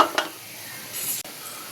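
Chitti kaja sweets fry in hot oil with a soft, steady sizzle, broken by a couple of brief clinks of a utensil against the pan, heard close and alone.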